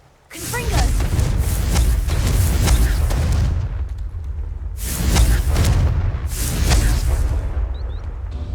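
Confringo blasting spells explode in Hogwarts Legacy, three loud booming bursts each followed by a rumbling tail, with a voice speaking between them.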